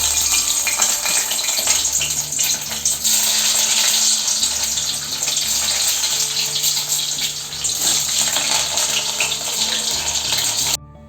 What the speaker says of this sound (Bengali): এবার আমি ডিমগুলোকে একটু ভেজে নিচ্ছি